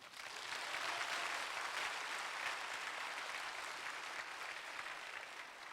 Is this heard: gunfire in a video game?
no